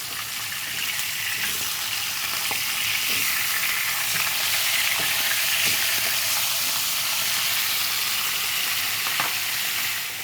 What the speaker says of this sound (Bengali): মানে কুরকুরে করে ভেজে দেন রান্না করে